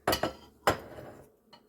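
A serving utensil scraping and clinking against a baking dish while chicken pot pie is scooped out, a few close, sharp knocks followed by a faint final tap.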